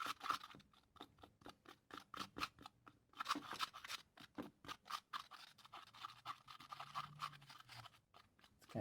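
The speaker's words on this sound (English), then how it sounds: "Directions said to mix it for a good 20 seconds" Small stirring and scraping strokes repeat in a quick, steady rhythm, close and faint, as two-part epoxy is mixed for a glow-in-the-dark balisong knife modification.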